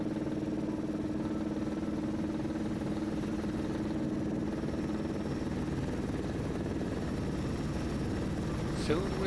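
A helicopter in flight over Antarctica's Victoria Land, heading back to a ship, its steady engine and rotor drone heard from inside the cabin, constant and fairly loud throughout, with no talk.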